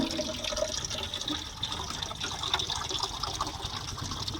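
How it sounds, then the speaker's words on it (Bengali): An opened tap pours water in a steady, soft gushing stream, fairly faint and continuous for a few seconds with no voices. "এই যে মা জলটা খুলে দিল কলটা আর খেতে লেগেছে জলটা।"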